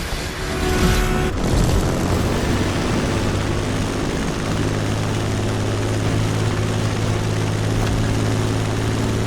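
A propeller airplane in the racing game The Crew Motorfest drones loud and steady throughout, its engine note holding even after a sharp rise in the first second.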